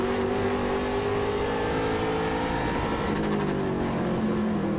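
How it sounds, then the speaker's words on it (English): Trans Am race car at Portland International Raceway, engine screaming at high revs and bouncing off the rev limiter while going into a corner, loud and continuous, with rising and falling tones as it shifts. "You can hear him hitting his limiter there going into 4."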